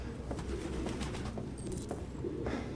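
Pigeons in Detroit: Become Human give a steady chorus of low, overlapping coos, close and moderately loud, with faint flutters over a dim game ambience.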